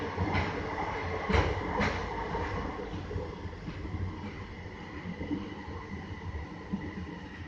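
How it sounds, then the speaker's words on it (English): A SkyTrain train on Vancouver's Evergreen Line arrives at a station, rumbling steadily along the track with faint clacks and a broad hum, moderately loud and continuous, no voices heard. "There's another train there arriving outbound."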